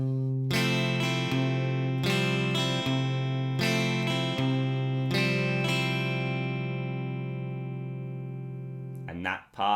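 Electric guitar plays a chord part from a song, about five ringing strummed chords at a moderate pace, then it fades and a brief noise closes it.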